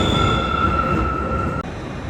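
Heathrow Express train headed to the airport from Paddington, a loud steady rumble of the carriage with a sustained high whine from the running gear, heard from on board.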